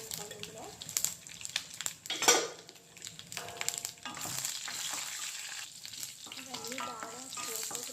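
Cumin seeds and five or six dried red chilies fry in hot oil for a tempering in a drumstick-leaf dal, giving a steady close sizzle with scattered clinks of a spoon against the pan.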